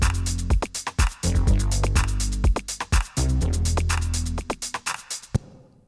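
Ableton project playback of an electronic drum beat with a written bass line: punchy kicks and snappy hits over a deep, sliding bass in a steady looping groove, loud and clean, ending abruptly with no talking.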